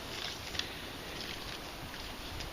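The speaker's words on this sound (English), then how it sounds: "it's quite windy here today" Constant breezy wind noise buffeting outdoors, fairly faint and even, with no voices.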